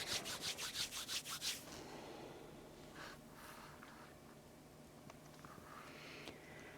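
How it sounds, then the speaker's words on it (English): Hands rubbing briskly together during a seated yoga session, about ten quick swishing strokes in the first second and a half, followed by quiet room tone and soft shuffling. "So if you're seated, give your hands a rub."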